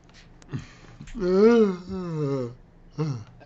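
A person gives a drawn-out, voiced yawn with rising and falling pitch, close and fairly quiet, set between short breathy sounds and a brief vocal sound at the end.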